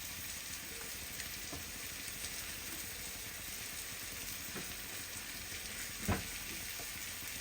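Onion and capsicum fry in a pan with a steady, close sizzle, broken by a few faint stirring clinks and one sharper knock near the end; no one speaks.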